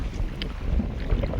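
Wind blows steadily at sea over a fishing boat in rough, choppy water, a constant low buffeting roar close to the microphone with no talk.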